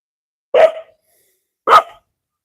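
Two loud, close dog barks spaced about a second apart, each short and sharp, with silence between and after.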